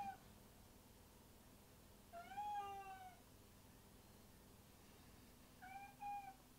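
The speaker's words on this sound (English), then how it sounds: "Can you hear the cat?" A cat meows twice from some distance, a drawn-out call and then a shorter one a few seconds later, over a quiet room hum with no talking.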